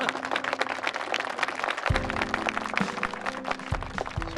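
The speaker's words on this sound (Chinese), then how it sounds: "让我们为这对新人鼓掌吧" Audience applause for an engaged couple at an engagement ceremony, a dense, sustained wash of clapping from a crowd with music playing underneath.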